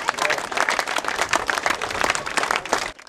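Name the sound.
schoolchildren applauding visiting wrestling champions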